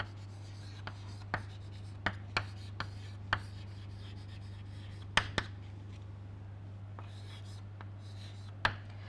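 Writing on a board during a thermodynamics lecture: scattered sharp taps and light scratching strokes, spaced irregularly over a steady low electrical hum in a quiet room.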